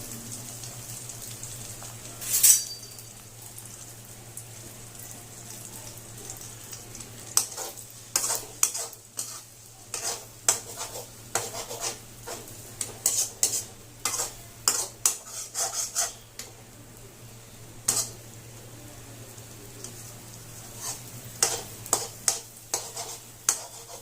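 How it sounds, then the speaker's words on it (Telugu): Beaten egg mixture sizzles in a pan for egg fried rice while a spatula scrapes and stirs it in quick, irregular strokes over a steady low hum, loud and close, with no talking. "మన ఎగ్ అయితే ఇలా ఫ్రై అవుతుంది"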